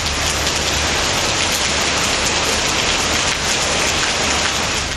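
Heavy night rain in Coimbatore pours down in a dense, steady, loud roar with no letup, filling the whole clip with no voices.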